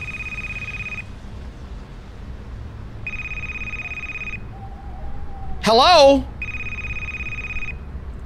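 A telephone rings in a FNAF fan video game, three evenly spaced electronic ring bursts with gaps between them, fairly loud, while someone speaks briefly in the middle.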